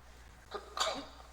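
One person sneezes once, a brief breathy intake followed by a sharp burst, fairly close over a quiet room hum.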